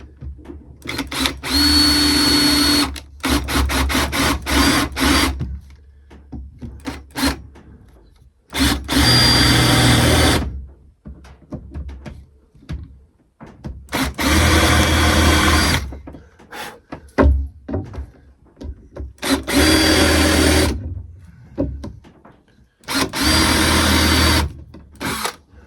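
A power drill drives screws into a workbench board in a small workshop, running in about six loud bursts of a few seconds each with brief pauses between them.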